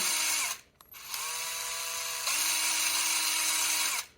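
A power drill twisting wire for wire wrapping whirs steadily at high speed, stops briefly, then spins up again and runs continuously before cutting off.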